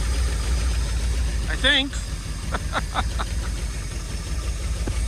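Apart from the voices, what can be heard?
1958 Edsel car engine idling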